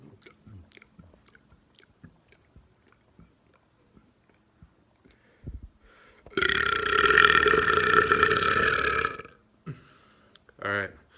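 One long, loud, drawn-out human burp lasts about three seconds, with faint mouth clicks and chewing-like noises before it and a short second burp after.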